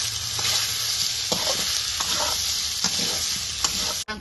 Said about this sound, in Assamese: মাংসটো ভালকৈ ফ্ৰাই কৰি লৈছো যাতে মছলাখিনি মাংসত সোমাই যায়